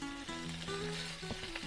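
Small strips of bacon fry in a pan over medium heat, putting out a steady, even sizzle that continues throughout, with faint tonal sounds in the background.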